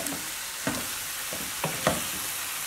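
Tofu noodles and bean sprouts sizzle in a hot pan under a steady hiss, while a utensil scrapes and tosses them in several quick strokes.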